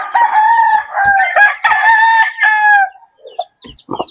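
A hen on a small farm gives loud, close, drawn-out clucking calls in a rapid run for about three seconds, followed by a few softer, broken clucks.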